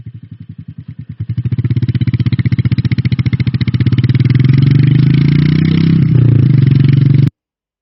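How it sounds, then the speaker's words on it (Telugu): A Royal Enfield Meteor 350 cruiser motorcycle idles with a loud, even single-cylinder thump, then the revs rise and it pulls away. The pulsing beat quickens into a steady road drone and cuts off abruptly. "మనం ఇప్పుడు ఈ బండి రోడ్‌లో నడిపేటప్పుడు సౌండ్ ఎలా వస్తుంది అనేది చూద్దాం"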